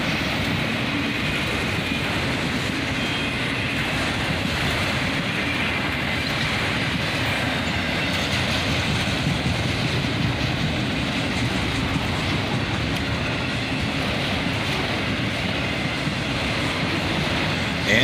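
A long CSX freight train of autorack cars rolls steadily past nearby, with a dense, unbroken rumble and rush of wheels and steel that holds at the same loudness throughout, without voices.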